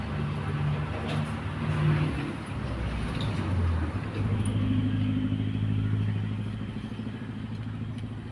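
Cars and other road vehicles rush past on a roadside by a rural eatery, a continuous loud engine drone with rising and falling pass-bys and rattling, close by, with no talking.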